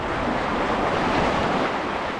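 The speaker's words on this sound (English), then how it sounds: "Waves are coming up." Ocean surf breaking against a California jetty makes a continuous loud roar of crashing water, mixed with wind buffeting the microphone.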